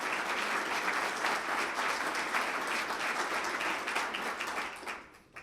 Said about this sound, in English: Please give Community Bank a great round of applause.